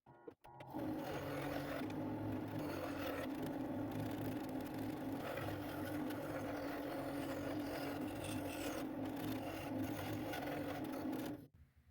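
A small bandsaw runs steadily for about eleven seconds, its motor buzzing with a rasping whine as it rough-cuts a wooden cutting board.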